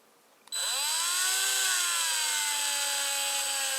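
A Black and Decker BCD700S battery drill starts abruptly and spins at a steady high whine, with its pitch settling as it runs. The sound is close and loud, with no talk.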